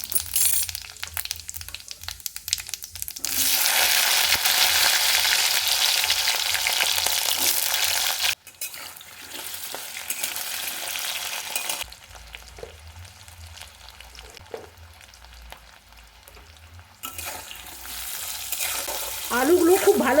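Potatoes fry in oil seasoned with panch phoron for a potato and okra curry, a loud hissing sizzle that swells and eases in stretches, with occasional stirring clinks and quieter pauses between.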